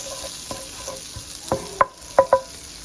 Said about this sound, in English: when I make steak, I like to saute onions and mushrooms